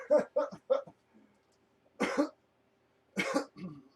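Two separate harsh coughs stand out against a quiet background. Before them come a few brief, softer throat sounds.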